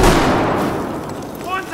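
A grenade explosion in Battlefield 4 on Operation Metro: a loud, close blast bursts out at the start and rumbles away over a second or so, leaving a fading roar.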